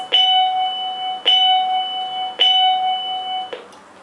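A digital automatic school bell plays a traditional ringing sound: three loud, evenly spaced metallic strikes, each with a long bright ring, followed by a shorter, damped fourth hit, heard alone and close.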